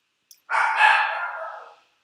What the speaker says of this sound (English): Someone just came home, so the dogs are like freaking out.